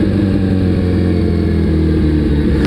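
A motorcycle engine holding steady at about 3,500 RPM while riding at 25 miles an hour, a loud continuous drone with no talk.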